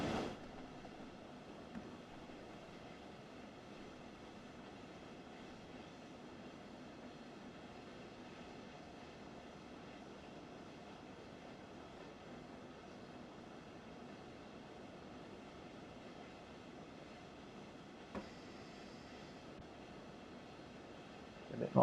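In the Train Sim World game, an electric local train on the Dresden network pulls out of Coswig station, giving a low, steady rolling rumble and motor hum throughout with faint clunks, no talk.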